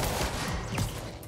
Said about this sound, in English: why are they shooting me from behind?